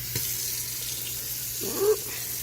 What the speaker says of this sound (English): Pausing to wash my hands now.